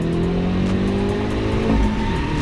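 A stock Hyundai Veloster N accelerates hard down a private airstrip, its engine note droning steadily and loud, rising slightly in pitch through the short stretch.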